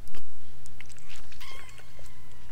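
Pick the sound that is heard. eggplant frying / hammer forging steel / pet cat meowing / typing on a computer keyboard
pet cat meowing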